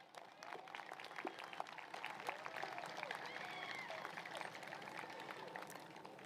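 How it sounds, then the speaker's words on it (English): Graduates at a commencement ceremony give a sustained, dense round of applause, steady crowd clapping that stays loud and even throughout without fading, with faint voices mixed in. "Will the graduates please stand and give your families and loved ones another resounding round of applause?"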